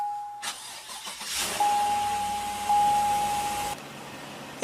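A 2017 GMC Yukon with a 5.3 liter V8 starts by push button: a short starter crank, then the engine catches with a rising roar and settles into a steady idle, close and fairly loud.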